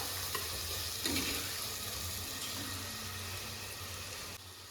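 Steady loud sizzling of green chilies frying in a pan, with occasional stirring scrapes, continuous and close.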